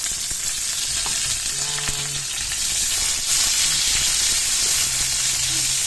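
Garlic and onion sauté in a pan for pinakbet with longganisa, an even, dense frying hiss that swells slightly halfway through, with faint background tones underneath.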